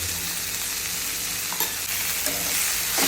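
Pathri greens with salt and crushed peanuts stirred in a pan, a steady loud hiss of frying under occasional scraping strokes, close and continuous with no voices.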